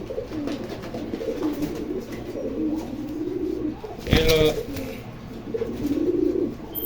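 Young Pakistani teddy pigeons coo in low rolling bursts close by, with a brief louder flutter or scuffle midway and faint voices in the background.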